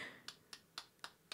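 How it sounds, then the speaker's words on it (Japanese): Hand claps in the action RPG Ys Origin: five soft, evenly spaced claps at a slow, steady pace, faint and close, with no other sounds. "拍手の音"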